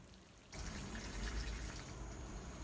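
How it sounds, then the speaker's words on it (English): Plants being watered: after a brief quiet moment, a steady soft rush of water pours and splashes, faint and continuous until the end. "So now I'm going to water it."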